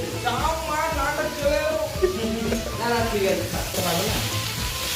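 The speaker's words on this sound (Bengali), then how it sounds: "এরপর আলুর সাথে পুঁই শাক দিয়ে দিলাম। এটাকে ভেজে নেব" Potatoes and Malabar spinach frying in a pan for khichuri, a steady close sizzle with scraping stirs, while a voice talks over it throughout.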